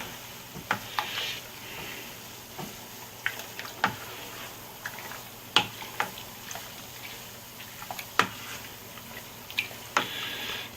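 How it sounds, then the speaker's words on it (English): Homebrew is stirred around in a sanitizer bucket, soft sloshing and scraping strokes at an irregular pace over faint background hiss, quiet and close, without speech. "So I'm just going to give a bit of a stir around."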